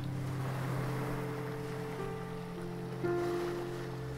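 Ocean waves on a relaxation hypnosis recording wash in as a continuous broadband surf, steady and fairly loud throughout, with no voice.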